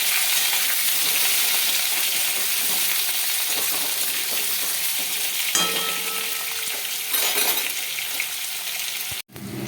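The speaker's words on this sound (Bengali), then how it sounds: "এই যে দেখো, আলুটা আমার একটু নাড়া হয়ে গেছে।" Potatoes sizzle steadily in hot oil in a pan, seasoned with a pinch of asafoetida, with brief scraping stirs partway through, close and continuous throughout.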